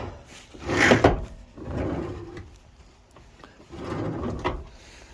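A seat base swivels with creaking, grinding rotations, three separate turns back and forth with pauses between, close and moderately loud.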